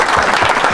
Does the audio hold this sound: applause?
yes